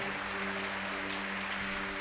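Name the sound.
church congregation applauding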